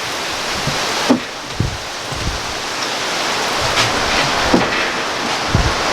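Heavy rain pours down outdoors as a steady, loud broadband hiss, with a few faint knocks and taps scattered through it.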